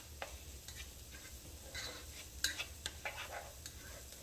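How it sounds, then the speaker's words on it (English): Onions stirred in a hot pan for a pot pie, with soft scraping and clinking of a utensil against the pan over a faint steady sizzle, heard close and without talking. "constantly stir"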